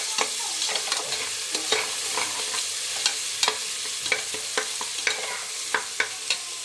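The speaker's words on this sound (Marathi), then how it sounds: "आता आपला कांदा आणि टोमॅटो छान फ्राय झालेला आहे." Chopped onion and tomato fry in oil with a constant sizzle, punctuated by regular, sharp scrapes and taps of a spoon stirring against the pan; no voices.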